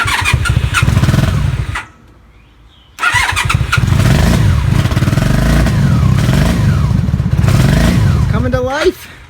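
A 1996 Honda Magna VF750C motorcycle engine cranks, cuts out briefly, then fires up and runs loudly with an uneven idle and a rising rev at the end, while someone talks over it.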